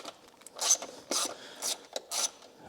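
An 8 mm metal screw being ratcheted out of a BMW i3 panel, with four or five close, gritty ratcheting bursts in an uneven rhythm and short pauses between them.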